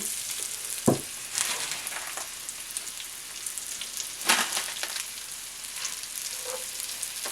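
Panko-crusted chicken breasts fry in butter and oil in a pan, giving a soft, steady sizzle with a few sharper crackles and spatters, quiet and close with no talking.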